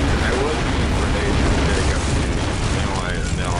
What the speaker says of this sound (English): What is with the explosions